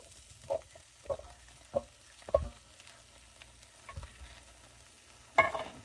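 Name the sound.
stirring kidney beans into chili in a pot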